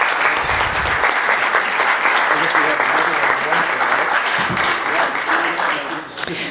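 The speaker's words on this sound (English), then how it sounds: "Can we have a round of applause for our" An audience at a candidate forum in Chico, California gives a dense, sustained round of applause, loud and continuous with a brief voice near the start.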